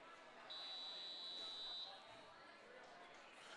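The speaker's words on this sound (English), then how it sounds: "And the buzzer goes off." A steady electronic buzzer blares for over a second in a large, echoing gym during a girls' varsity volleyball match, with crowd noise and talk running underneath.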